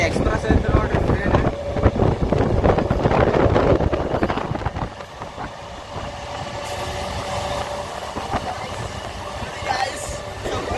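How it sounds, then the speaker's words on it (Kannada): An express train rushes past near Hubballi, a loud rumbling roar with wind buffeting the microphone that eases to a lower, steady rolling noise partway through. "ಫುಲ್ ಎಕ್ಸ್ಪ್ರೆಸ್ ಐತೆ ನೋಡ್ರಿ ಟ್ರೈನ್"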